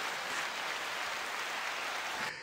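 Audience applause in a hip-hop talk setting, a dense, steady wash of many hands clapping throughout, loud and close, breaking off abruptly right at the end.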